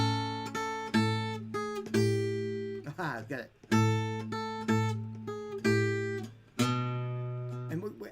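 A blues intro, played as a run of plucked, ringing notes and chords with a steady, swinging pulse, up close and fairly loud, with a brief spoken phrase near the start.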